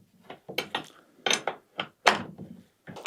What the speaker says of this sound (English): just get the correct size spanner, and then I'm just going to tighten them fully